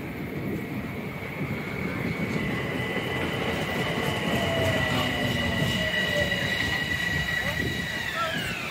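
An ex-NJ Transit Comet IV passenger train rolls steadily past close by, with a constant rumble and high, drawn-out wheel squeals that slide downward near the end.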